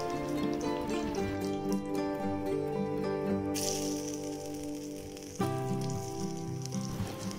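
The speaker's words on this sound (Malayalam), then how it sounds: "ഇനി ഞാനൊരു പാൻ ചൂടാക്കിയതിന് ശേഷം അതിലോട്ടേക്ക് കോക്കനട്ട് ഓയിലും ഒരു ടീസ്പൂൺ നെയ്യ് കൂടി ചേർത്തിട്ട് പനീർ നന്നായിട്ട് ഫ്രൈ ചെയ്തെടുക്കാം." Paneer cubes frying in a hot pan of coconut oil and ghee, giving a steady, continuous sizzle that stays at an even level throughout with a slight change in texture partway.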